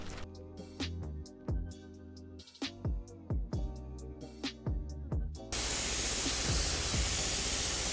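Aerosol-style spray gun applying Cerakote to a Yamaha YZ426F motorcycle front brake caliper: a few short clicks and knocks, then a sudden continuous loud hiss of spraying that runs steadily to the end.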